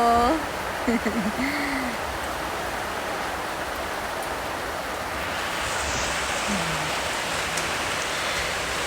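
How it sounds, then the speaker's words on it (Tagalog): Steady rain falls in a soft, even hiss throughout, with a person speaking briefly at the start and a faint voice later. "Kanina pa umuulan."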